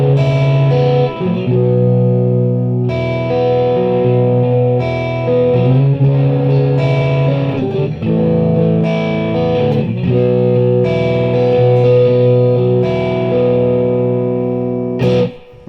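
Heavily distorted electric guitar plays sustained chords one after another, loud and buzzing, with sharp changes between each chord.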